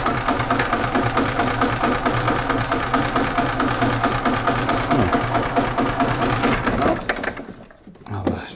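The engine of a 1995 Yamaha G14 gas golf cart runs lumpy, a loud, close, steady pulsing chug that catches on the compression stroke, then drops away into near quiet at the end.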